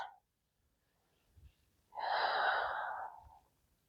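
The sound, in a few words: deep breathing during yoga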